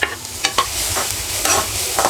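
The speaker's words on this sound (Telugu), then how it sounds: "ఫ్రై మిక్స్ చేసేసుకోండి మంచిగా." Carrots and onions fry in a pan as they are mixed, a loud close sizzle with quick scraping strokes and knocks of the utensil, no talking.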